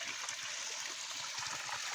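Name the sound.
dirty water draining out of crab farm pond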